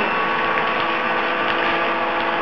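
Chamber vacuum sealer drawing a vacuum, a steady loud mechanical hum and whir with faint ratcheting clicks running continuously throughout, with no talking.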